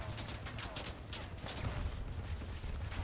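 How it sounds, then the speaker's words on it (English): Artillery fire from a vehicle in the Crossout combat game comes as a fairly faint, continuous stream of rapid gunfire bursts with low booming thumps underneath. "I wonder, can I damage myself with the artillery?"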